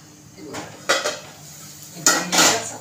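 A metal lid set down on a pan of egg bhurji with onion and chilli, two clattering knocks of metal on metal with a soft sizzle between them.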